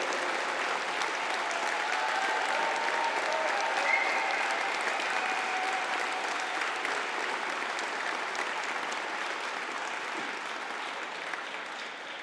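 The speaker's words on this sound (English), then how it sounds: "can we have a collective round of applause for the Certificate in Financial Accounting and Payroll" A conferring ceremony audience applauds the Certificate in Financial Accounting and Payroll graduates, a long, steady wash of many hands clapping in a large hall, easing slightly toward the end.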